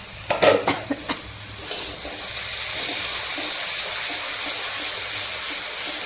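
A few clinks and scrapes of a utensil at first, then a steady sizzle of fish curry with fried spices cooking in a pan, continuing evenly without speech.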